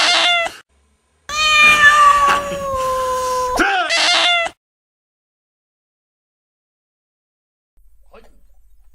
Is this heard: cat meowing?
yes